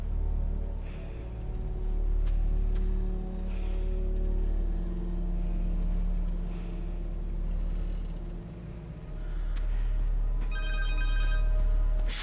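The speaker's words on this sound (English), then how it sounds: "Phone!" A cell phone rings in Marvel's Spider-Man 2, a steady tonal ring sitting over a low, rumbling game score for several seconds, with the brightest burst near the end.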